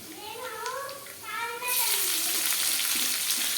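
Thinly sliced onion drops into hot oil in a pan, bursting into a loud, steady sizzle after a few seconds of spoken talk.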